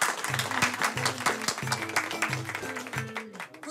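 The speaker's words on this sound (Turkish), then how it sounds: "Alkışlarınızla." A crowd in a local venue claps and cheers to welcome a performer, dense applause running over a rhythmic musical backing for nearly four seconds.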